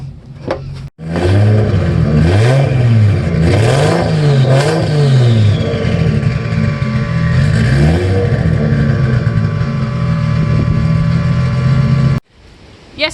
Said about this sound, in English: It's quite loud, it's quite noisy, so I'll give it a start up so you can hear it